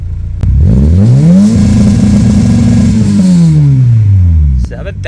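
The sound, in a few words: car engine hitting ignition rev limiter at 7,000 rpm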